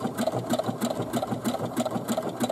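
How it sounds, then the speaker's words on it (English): A sewing machine runs steadily, stitching a straight reinforcing line over the top of earlier stitching on fabric bag straps, its rapid needle pulses repeating in an even rhythm, close and clear with no talking. "I'm going to do that stitch number 4 again, right on top of the previous straight line of stitching."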